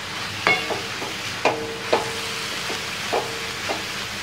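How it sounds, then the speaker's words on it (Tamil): Arai keerai greens are sautéed for poriyal, with a soft, steady sizzle under a handful of distinct metallic spatula knocks and scrapes against the pan as they are stirred. "கீரை போட்டு நம்ம நல்லா மிக்ஸ் பண்ணிடலாம்."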